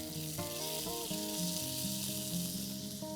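Grated tomato sizzles and fries in a pan with turmeric, a steady bright hiss running throughout, with tonal background music underneath.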